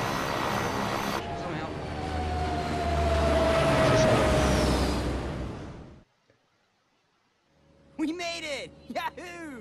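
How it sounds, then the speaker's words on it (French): In Resident Evil Code Veronica X, an airplane engine roars and builds as the plane takes off, then fades to near silence. Game voices follow afterward. "Je sais faire décoller un putain d'avion."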